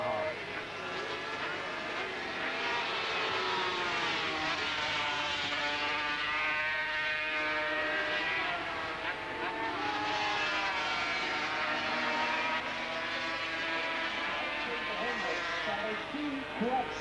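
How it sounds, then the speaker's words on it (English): The 1982 Yamaha V4 500cc Grand Prix motorcycle races at the Dutch TT at Assen with a high, screaming engine note that holds steady and wavers slightly. A commentator talks continuously over the engine. "the unique V4 Yamaha."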